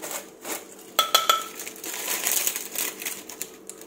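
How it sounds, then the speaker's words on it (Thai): Shrimp paste, roasted in banana leaf, and chili pounded together in a mortar: a quiet series of close, sharp knocks and clatters in an irregular rhythm, with no talk. "ตำให้เข้ากันค่ะ"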